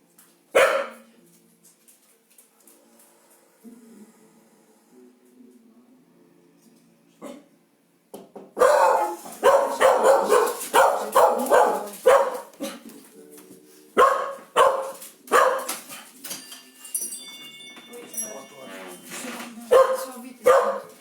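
A dog barks indoors during a yoga class, a quiet stretch broken by a faint yip, then a long run of loud, repeated sharp barks close by, with an instructor speaking intermittently.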